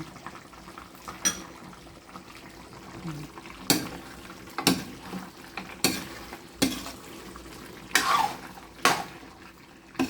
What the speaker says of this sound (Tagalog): Saka natin halu-haluin.